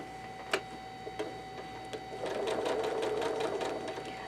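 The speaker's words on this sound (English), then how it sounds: "So I'm just stretching that fabric as it goes under the needle side to side" A sewing machine stitches fabric for quilting, a few separate needle clicks at first, then a steady fast rattling run up close, with no talking.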